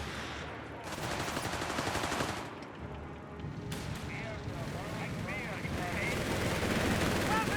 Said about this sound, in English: East machine gun team there.